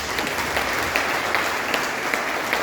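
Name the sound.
applause in church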